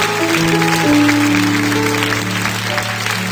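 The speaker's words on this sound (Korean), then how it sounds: "우리 큰 박수로 이분들을 축복합니다." A church congregation applauds fathers and husbands standing to be blessed, a steady wash of clapping under sustained organ or music tones and a voice.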